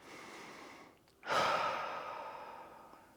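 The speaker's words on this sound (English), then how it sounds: "Take a deep breath." One deep breath, a soft drawn-in inhale, a brief pause, then a louder, longer exhale that slowly fades, close and quiet with no talking.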